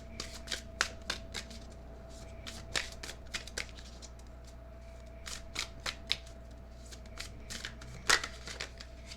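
Tarot cards being shuffled by hand in a quiet room, a steady run of crisp riffling bursts and soft flicks, close and fairly faint, with no talking.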